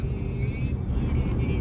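A Porsche car passes close by on a road, heard as a loud steady engine and tire rumble with a faint whine, filling the whole short moment.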